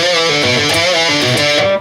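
Slowed-down phrase from a solo on distorted electric guitar, a short run of clearly separated picked and bent notes, loud and close, cut off at the end.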